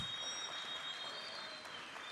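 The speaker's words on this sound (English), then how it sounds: "can we give him another round of applause" Audience applause at an anti-corruption expo and games event, a steady dense wash of clapping sustained evenly throughout without voices.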